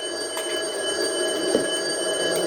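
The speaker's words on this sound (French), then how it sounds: "Le téléphone a sonné." A telephone rings in the Minecraft video game, repeated bright electronic ring tones pulsing over a steady droning background, with no one talking.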